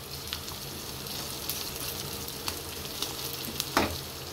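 Tadka spices for dal sizzle in hot oil, browning, with a steady crackling hiss, punctuated by a few sharper pops and spits, close and fairly quiet.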